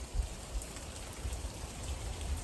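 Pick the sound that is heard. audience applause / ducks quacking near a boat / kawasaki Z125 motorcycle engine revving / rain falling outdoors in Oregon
rain falling outdoors in Oregon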